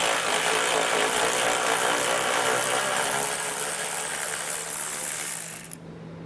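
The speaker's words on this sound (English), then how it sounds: "You can use a 15mm to get that one removed." A power tool with a 15mm socket spins a bolt out of a 2015 GMC Canyon during a base plate install, a loud continuous whirring drone lasting several seconds before cutting off abruptly.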